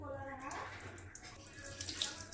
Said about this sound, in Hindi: ये लगभग 5 मिनट हो गया पानी ऐसे ही निकल रहा है।